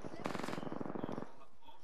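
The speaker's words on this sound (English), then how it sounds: "Oh, I can hear the gunfire." Rapid automatic gunfire from a firefight in the video game Apex Legends, a dense burst of shots lasting about a second then cutting off, fairly loud and close, with faint quieter noise after.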